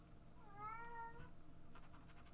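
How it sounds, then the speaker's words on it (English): A cat gives a single clear, drawn-out meow, close but fairly soft, followed by a brief rustle in a quiet room. "the cats have different meows for us"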